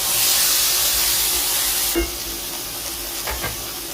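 Ground tomato paste hits a pan of sautéed onion with curry leaves, and a loud steady sizzle of frying fills the pan, dropping slightly after a small clunk and stir.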